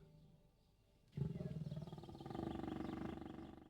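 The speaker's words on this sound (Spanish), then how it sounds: "Su rugido es de león, ruge como los cachorros" A lion roars loudly after a brief quiet lead-in, a deep, rumbling roar that swells and holds for a couple of seconds.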